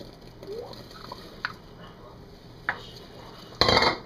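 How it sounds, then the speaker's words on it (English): Marshmallows being stirred into chocolate fudge in a pot: soft scraping with a few clinks of utensil against metal, then a louder clattering burst near the end. "Now, you're going to stir in marshmallows."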